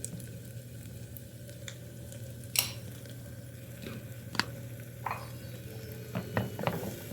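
Onions with ginger garlic paste fry in a pan, giving a steady close sizzle with occasional scrapes and clinks as they are stirred, with no voices.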